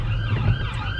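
An ambulance siren wails along a street outside, its rising and falling tone fairly faint under low traffic rumble during a single short moment.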